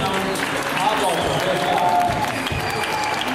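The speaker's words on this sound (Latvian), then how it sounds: "Skaļi aplausi, ka pamēģinām" Loud applause and crowd cheering at an indoor muscle-up challenge, clapping rising under a busy, noisy room with voices mixed in throughout.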